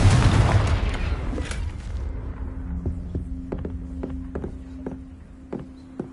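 A Confringo blasting spell erupts in Hogwarts Legacy with a loud, close explosive boom that rolls off over a couple of seconds, followed by a low hum and scattered faint clicks.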